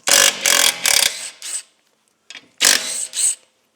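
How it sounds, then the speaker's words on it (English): A small DeWalt impact gun does up bolts on a car in a workshop, firing in several loud rattling bursts of about half a second each, with a short pause before two final bursts. "that little DeWalt gun"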